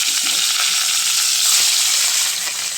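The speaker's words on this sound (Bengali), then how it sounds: "মাছ ভাজতে দিয়েছি, তেল হয়ে গেছে, মাছগুলো ভাজতে দিয়ে দিচ্ছি" Fish fries in hot oil at close range, a steady, loud crackling sizzle with small pops running unbroken throughout, no voices.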